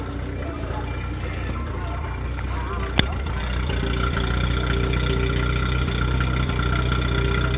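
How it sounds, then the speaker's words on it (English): A car engine idles steadily at the exhaust, a close, continuous low rumble with one sharp click partway through. "I'm gonna bring the mic by the exhaust so you guys can hear."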